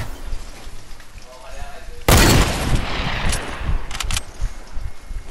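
Gunfire in Fortnite, a sudden loud burst of shots followed by a rattle of further rapid reports over game ambience, with players talking over it.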